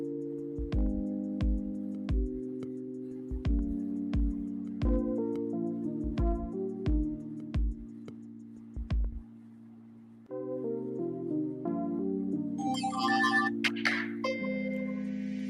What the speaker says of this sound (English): Phone is making weird sounds